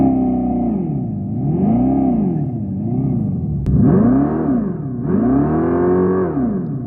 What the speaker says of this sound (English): this is a comfortable car, but the sounds are so weird